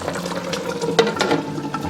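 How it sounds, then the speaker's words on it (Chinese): Braised tofu simmers in a covered pan over medium-low heat, giving a steady, close, soft bubbling and hiss that stays even for the whole stretch, with no voices. "然后下入豆腐，然后我们可以盖上盖子，调中小火给它焖5分钟"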